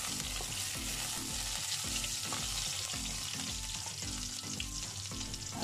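Whole baby potatoes fry in a pan with a constant close sizzle, broken by a regular rhythm of stirring scrapes.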